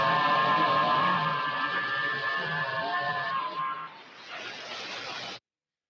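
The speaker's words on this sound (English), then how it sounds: "This is what FT8 sounds like" Steady overlapping FT8 digital amateur radio tones, heard on a shortwave receiver in AM mode, hum together in a buzzy signal, shifting pitch near the end before cutting off abruptly.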